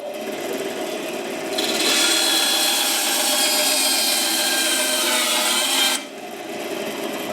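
A 10-inch Vevor band saw on a stand cuts a tapered end off a wooden board, giving a loud, steady raspy whine that rises as the blade bites in, holds for about four seconds, then drops back to the idling motor hum.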